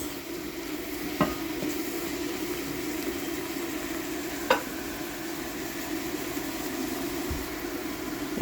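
Carrots fry and get stirred in a pan of pancit canton, a soft continuous sizzle over a steady background hum, with a few sharp utensil clicks against the pan.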